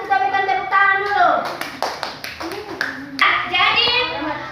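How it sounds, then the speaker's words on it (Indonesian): Students in a classroom give a round of clapping during a teaching session: a burst of sharp claps in the middle, surrounded and partly overlapped by children's and adult voices talking. "Kita berikan tepuk tangan dulu."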